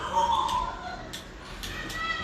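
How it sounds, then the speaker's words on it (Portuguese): A 13-year-old cat gives a short, soft meow indoors, close by and under a low steady background. "Isso aqui é minha gatinha velha, né? Minha velhinha, de 13 anos de idade"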